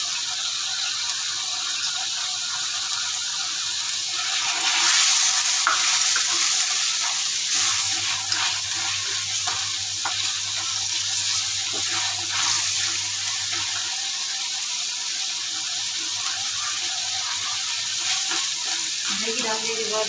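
Green chillies sizzling in hot oil for mutton karahi, a continuous bright crackling fry with occasional stirring clinks, steady and close throughout with a low hum underneath.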